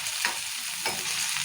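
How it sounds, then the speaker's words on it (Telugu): Onion, tomato and green chilies fry in oil with a steady broadband sizzle, broken by two brief scraping stirs near the pan, no voices present. "ఇక మిరపకాయలు, ఉల్లిగడ్డలు మంచిగా వేగినాయి కదా"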